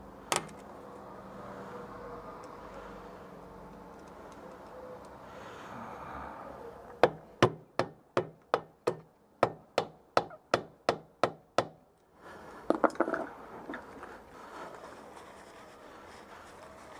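Hammer blows loosening a nut on the rear drum of a Citroën 2CV: about a dozen sharp metallic strikes in a steady rhythm, close and loud, followed by a short rattling clatter.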